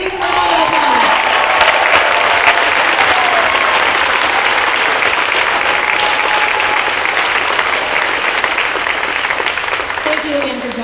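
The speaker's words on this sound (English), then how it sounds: "Can you give him a round of applause?" Loud, close applause from a high school spring pops concert audience runs unbroken for about eleven seconds, with some cheering and crowd voices mixed into the dense clapping.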